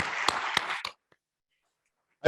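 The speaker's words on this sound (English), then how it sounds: "Round of applause." Conference audience applause rings out as a burst of clapping that cuts off abruptly into silence, followed by a short sound at the very end.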